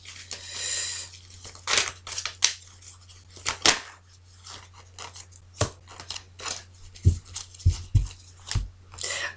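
An oracle card laid down on a table during a weekend reading: a few soft, brief taps and rustles of card against the surface, spaced out at close range with no voice over them.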